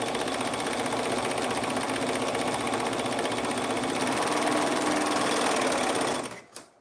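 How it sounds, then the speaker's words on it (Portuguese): An overlock sewing machine stitches a tank top in one loud, steady, fast mechanical whir that runs without a break, then stops abruptly near the end. "pra passar o overlock aqui, ó, normal, tá?"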